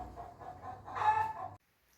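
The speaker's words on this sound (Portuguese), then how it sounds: "E aí, Rebeca, ao som do galo e da galinha que canta" A rooster crows and hens cluck in a rural Cariri setting, a faint, somewhat distant crow rising over low background murmur before cutting off abruptly.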